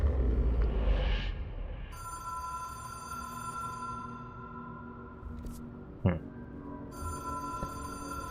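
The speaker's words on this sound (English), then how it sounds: "Can I pick up the phone?" A telephone rings inside the video game Control, its electronic tone sounding in repeated bursts over a low ambient rumble, falling quiet briefly before ringing again.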